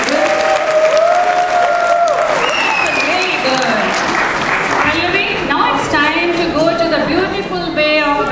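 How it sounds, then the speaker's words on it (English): A stage-show audience at the Mili ICS 2011 cultural event bursts into a loud round of applause after a performance, the clapping mixed with crowd chatter and a few cheers while music or tonal voices carry over it. "A huge round of applause again"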